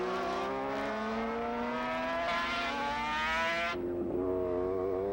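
A Honda FWS superbike races at Laguna Seca, its engine a loud, sustained high-revving wail that climbs in pitch, then drops sharply as the bike shifts or backs off before building again.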